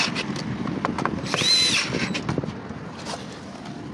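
Power tool tightening a fitting on an aluminium door with panic-bar locks and handles, a short whirring burst of the driver with a faint squeal, close and under light workshop clatter.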